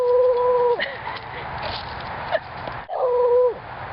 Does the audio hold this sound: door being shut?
no